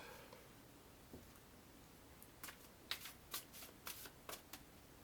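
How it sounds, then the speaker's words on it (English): Quiet riffling and soft snapping of tarot cards being shuffled, a series of light flicks building toward the end, close by with no talking. "the cards are all shuffled"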